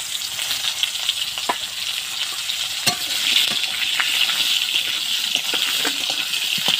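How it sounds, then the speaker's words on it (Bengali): Cut pointed gourd fries in hot oil with cumin, giving a steady close sizzle with occasional pops and crackles throughout, and no talk. "পটলগুলো আমি ভালো করে ভেজে নেব।"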